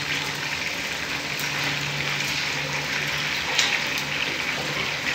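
Chicken wings fry in a pan with a steady, hissing sizzle that stays even throughout, punctuated by a few faint crackles and pops, close to the cook and without talk.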